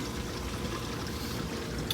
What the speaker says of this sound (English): So all the water falls down right there in that chamber.